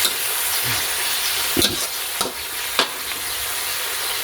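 Chili paste dry-roasting in a hot pan for a Thai catfish choo chee curry, with a steady close sizzle and frying crackle and a few sharp scrapes and stirs of a utensil against the pan.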